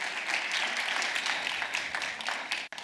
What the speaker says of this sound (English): Ladies and gentlemen, a round of applause for my panelists.